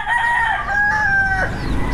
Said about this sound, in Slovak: A kohút.